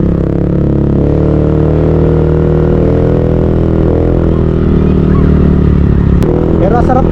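A Honda RCB 17-inch mag wheel swap onto 14-inch mags on a motorcycle riding along a bumpy road, with a steady loud engine drone and a rider's voice over it.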